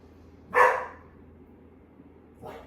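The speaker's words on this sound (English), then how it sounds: "you'll hear my dogs barking and running around." Dogs indoors give one loud, sharp bark and then a fainter one a couple of seconds later, with quiet room noise in between.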